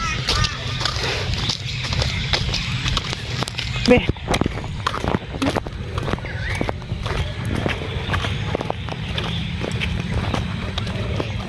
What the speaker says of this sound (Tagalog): Ang mga kabayo yun dito.